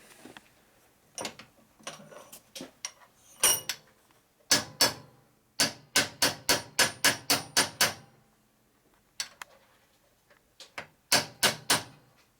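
Sharp metallic hammer taps ring out in irregular bursts, some single, then a quick run of about eight evenly spaced strikes, close by, as pins are hammered into a 1965 Harley-Davidson Panhead engine case.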